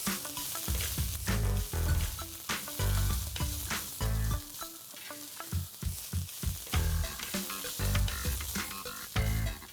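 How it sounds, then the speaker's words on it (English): Finely chopped onion sautés in a pan, giving a steady close sizzle with frequent bursts of stirring and scraping throughout. "we have to saute the onions till they are translucent and soft"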